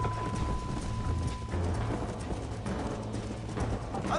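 Galloping horse hooves from Red Dead Redemption, a steady clip-clop rhythm running throughout at close range over a dense game soundtrack, with no voices.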